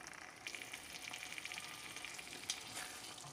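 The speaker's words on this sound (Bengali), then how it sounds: "একটু কমায় রান্না করলেই শুটকিটা ভাজা ভাজা হয়ে আসবে।" Dried chepa fish frying on low heat in a pan gives a faint, steady crackling sizzle with light pops and a soft tap partway through, no voices.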